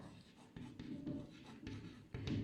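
A teacher writes on a board during a Hindi-language chemistry lesson. Several scratchy strokes come in uneven bursts, close and moderately faint, with a voice speaking faintly in places.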